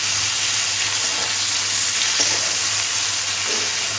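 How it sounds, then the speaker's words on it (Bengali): Chopped onion frying lightly in oil with panch phoron, a steady soft sizzle and hiss throughout, close and even, with a faint stir partway through and no talking. "দিয়ে দেবো কেটে রাখা পেঁয়াজটা হালকা নরম করে হালকা করে ভেজে নেব।"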